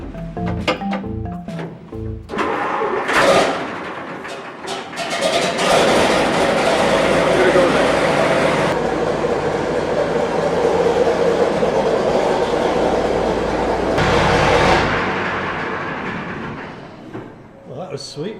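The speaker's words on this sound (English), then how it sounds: "It's an M4 high-speed tractor, built by Alice Chalmers, and its purpose was to tow artillery pieces." An Allis-Chalmers M4 high-speed artillery tractor with a brand new engine runs loudly and steadily, rumbling and clattering for most of the stretch before it quiets near the end.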